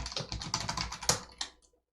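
Quick, close keystrokes on a computer keyboard tap out a short burst of typing, ending in a couple of firmer presses before falling silent.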